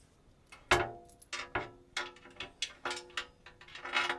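Bolts go loosely into an RCI skid plate, heard as a series of close metallic clicks and ratcheting clatters in uneven bursts, fairly quiet and without talk.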